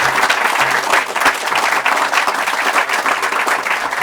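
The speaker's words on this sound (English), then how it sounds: "Let's give them a round of applause." Lecture audience applause at a journalism fellowship event, a full, steady round of clapping from many people, close and continuous with no speech over it.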